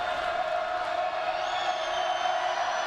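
The Perkins crowd at a 2013 boys' high school district final basketball game against Scott makes a steady, sustained roar of cheering and shouting throughout.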